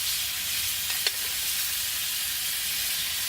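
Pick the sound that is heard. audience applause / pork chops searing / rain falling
pork chops searing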